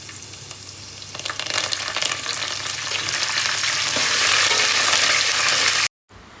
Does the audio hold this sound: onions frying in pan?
yes